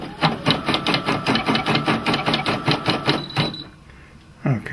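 A Brother PE770 embroidery machine's carriage moves with a fast, steady mechanical clatter of regular pulses for about three seconds, then drops to a quiet hum with a brief clunk at the end.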